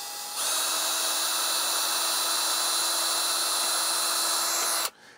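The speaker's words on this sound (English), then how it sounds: "I'm going to use that to drill through where I've used a center punch." A small 1/8 inch drill bit spins up and drills pilot holes at center-punched marks in an audio mixer build, a steady high-pitched whine held for about four seconds before stopping abruptly.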